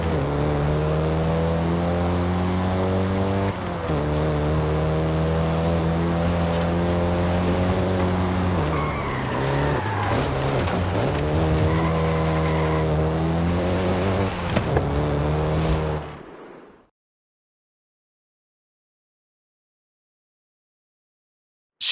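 A Volkswagen Golf GTI races in Forza Horizon 5, its engine droning loudly and steadily with rising and falling revs for about sixteen seconds before cutting off abruptly into silence.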